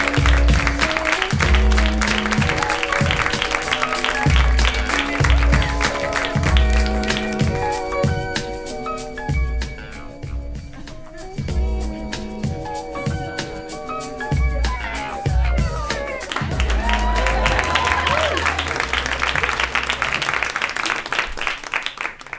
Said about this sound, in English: So give a round of applause for Lorelai Ramirez.